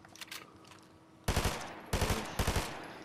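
Gunfire in Fortnite: a few faint distant shots, then three close bursts of rapid automatic fire, each a tight cluster of sharp cracks separated by short pauses.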